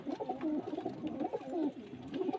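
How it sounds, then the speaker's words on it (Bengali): Punjabi Malbai pigeons coo close by in a soft, low, repeating rhythm of throaty rolling calls, continuous and fairly quiet. "দুটোই পাঞ্জাবি মালবাই পায়রা"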